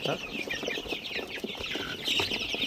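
Growing chicks cluck and cheep close by in a small pen, a busy overlapping chatter of short calls with faint rustling.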